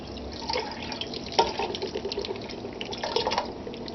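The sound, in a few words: beer being poured into pot with corned beef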